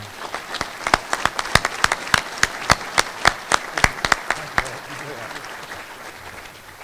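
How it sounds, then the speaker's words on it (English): At a school-district sports hall of fame ceremony, a small audience gives sparse, distinct claps in an uneven rhythm that thin out and stop, leaving a low murmur of voices in the room. "But I think that Balfour needs a real good round of applause,"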